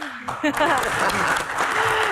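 A studio audience at a talk show applauds as a panelist is introduced, dense clapping that continues under a host's voice throughout.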